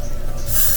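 Freeze spray hisses onto wig lace from an aerosol can in a short, close burst that starts partway through and continues to the end over a low background hum.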